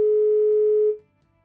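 Telephone tone after a dropped call, a single loud, steady, pure beep lasting just under a second before cutting off into near silence.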